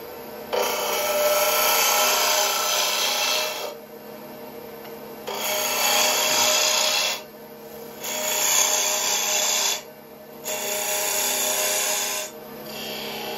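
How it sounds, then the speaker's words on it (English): Wood lathe making fast peeling cuts to shape the handle of a turned toy, loud broadband shearing bursts of three to four seconds each, separated by short pauses, with no talking. "make some pretty fast peeling cuts and start forming the handle"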